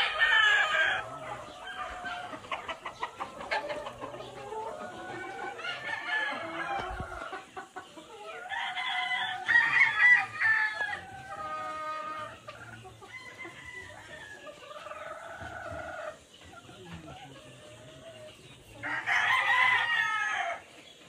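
Many hens clucking and squawking nearby, with overlapping calls and a rooster-like crow rising and falling throughout, no talking.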